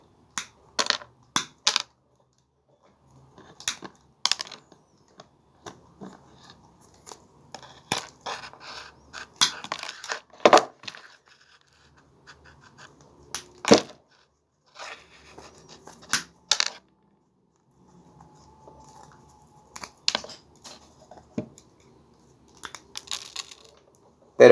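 Two 1.5 mm electrical wires being stripped with a hand tool, giving sharp, close clicks, snips and scraping bursts in several separate groups with quiet gaps between, and no talking.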